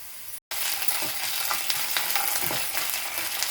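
Ginger garlic paste is fried with deep-fried onions over a medium flame for a chicken masala. A brief silence gives way to a loud, continuous sizzle with soft stirring scrapes, and no one speaks.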